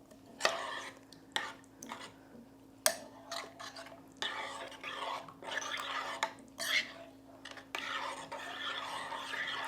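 Spoon stirring dried oregano into lasagna soup in a crockpot, with repeated scraping and sloshing strokes in uneven bursts close by and a quiet voice speaking softly between them.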